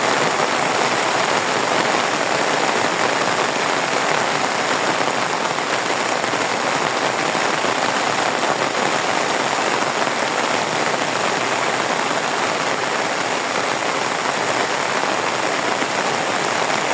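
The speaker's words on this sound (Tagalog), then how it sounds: "Ayaw, ang lakas ng ulan." Heavy rain pours down on a farm, a loud, dense and unbroken hiss that holds steady throughout with no voices.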